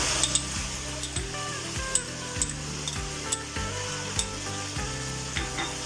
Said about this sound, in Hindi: जो इस तकरीबन 3-4 मिनट हो गए इसको फ्राई करते हुए